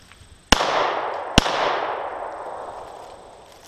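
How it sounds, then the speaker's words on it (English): Two sharp shots from a Glock 43 9mm subcompact pistol fired at a 14-inch steel plate target, about a second apart, each loud crack trailing off in a long outdoor echo. "I'm going to just kind of shoot in the direction of the target."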